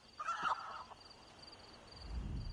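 Chickens in a High Isle video game setting give a brief squawking cluck near the start, followed by quieter rustling and a low thump at the end.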